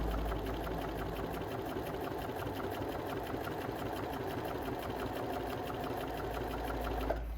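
A Bernina B325 sewing machine runs steadily at high speed, a loud continuous whirring hum with a fast rhythmic needle clatter that carries on alone from start to finish.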